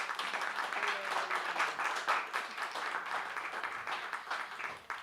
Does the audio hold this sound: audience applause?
yes